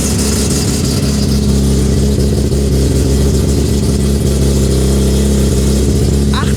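A drag race car with an old-school Ford engine and C4 transmission, running quarter miles in 8.1 seconds, rumbles loudly and continuously at close range with a deep throbbing idle and rising revs.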